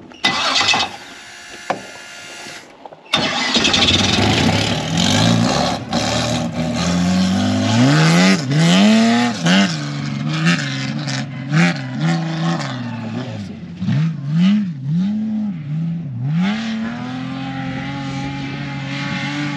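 A race car engine fires up after a pause and is driven hard around a track, its revs climbing and dropping in repeated sweeping surges as it shifts, passes and circles back, loud and close with no talking.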